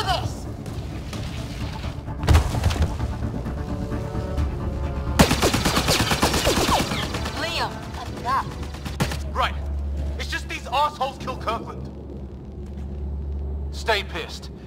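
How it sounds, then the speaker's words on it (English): Gunfire rattles through a sci-fi battle in the Mass Effect Andromeda video game, with bursts of rapid shots, a heavy rumbling blast and mechanical clatter, and voices shouting over the fighting. "Just keep firing!"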